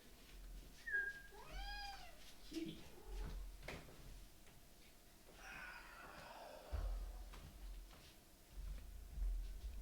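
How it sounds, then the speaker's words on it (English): A pet cat meows indoors, a couple of clear rising-falling cries near the start, followed by softer huffs and rustling, close but fairly quiet, with no speech over it. "That's my cat."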